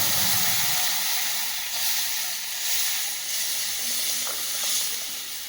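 Lentils hit hot oil with dried chilli and whole cumin, setting off a loud, steamy hiss that swells and rolls in waves before easing slightly.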